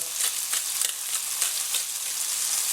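Chicken fries in a hot pan with sage, giving a steady, close, bright sizzle with rhythmic crackling pulses throughout and no talking.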